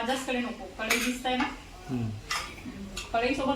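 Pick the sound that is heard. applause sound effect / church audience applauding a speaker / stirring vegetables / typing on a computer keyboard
stirring vegetables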